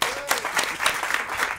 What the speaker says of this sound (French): La performance s'applaudit, bravo.